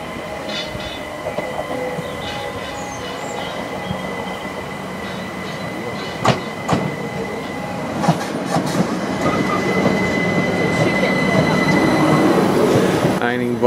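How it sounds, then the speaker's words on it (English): A train to Cambridge rolls along the rails with a steady rumble, wheels clicking over joints and a faint squeal building as it gathers speed. "this is our next train now to Cambridge"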